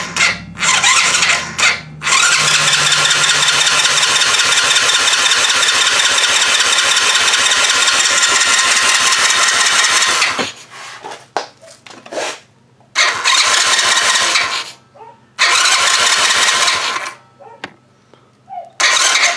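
A project vehicle's engine cranks briefly, then starts and runs loud and steady for several seconds before cutting out; shorter bursts of revving and mechanical noise follow with gaps of near silence.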